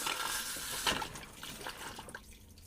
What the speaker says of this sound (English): That will rinse the toilet